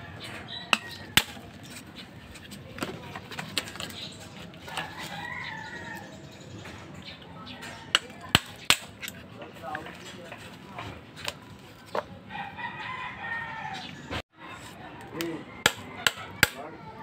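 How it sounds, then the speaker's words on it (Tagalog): A 6mm screw is hammered against the rivets of a washing machine wash motor to knock them out, giving a few sharp, scattered metallic strikes close by, with a voice heard between the blows. "kukuha lang tayo ng 6mm na screw at pupukpukin natin yung rivets"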